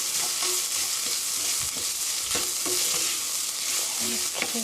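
Chili powder being stir-fried for mapo tofu, with a steady close sizzle broken by repeated scraping strokes of a utensil against the pan.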